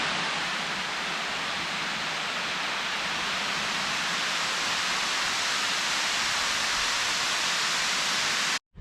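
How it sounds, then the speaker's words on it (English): Water overflowing the Derwent Dam spillway after heavy rain makes a loud, even rushing roar, a dense unbroken wash of falling water that holds steady throughout before cutting off abruptly at the very end. "and this is the overflow for Derwent Dam"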